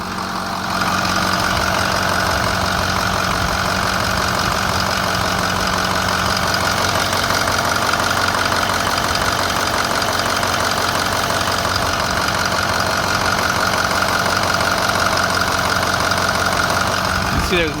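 A 2006 Ford F250 with the 6.0L diesel V8 idles steadily, a close, even clattering knock over a low rumble, continuous and unchanging.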